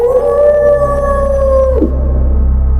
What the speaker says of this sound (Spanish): Grita, gruñe, aulla.